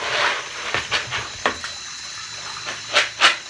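Eheim canister filter media, pellets and sponge, get a gentle rinse under running tap water: soft irregular splashes and gurgles rise and fall in short bursts at close range.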